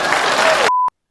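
A burst of crowd applause as a sound effect, dense and loud, cut off abruptly after well under a second and followed by a short, pure electronic beep.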